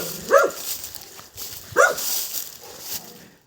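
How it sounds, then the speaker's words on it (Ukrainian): A pet dog barking at its owner as though at a stranger: two loud, close single barks about a second and a half apart, over a quiet background with no speech. "Чуєте, як гавкає?"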